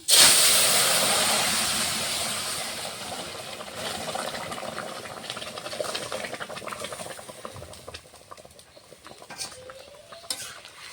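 Vegetables, including potato, eggplant, flat beans and radish, are dropped into hot oil tempered with whole cumin and black cumin, giving a loud sudden hissing sizzle that gradually settles into softer bubbling with occasional stirring scrapes.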